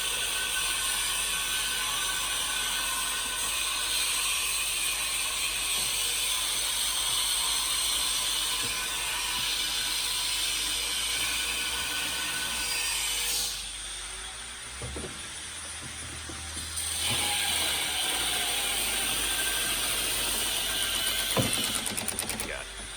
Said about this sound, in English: You want to remove these 4 bolts here.